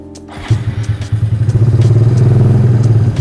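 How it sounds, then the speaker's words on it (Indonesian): A custom Monkey Bobber motorcycle engine starts up and settles into a steady, bassy idle, close and loud, with a rhythmic mechanical chug and light clatter over the low rumble. "Kita cek suara si Monkey Bobber punya Kayus"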